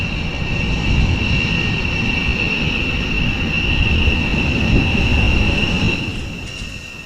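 HAL light utility helicopter flying a display at an air show, a loud steady turbine whine and broad rotor roar held throughout, fading slightly at the end.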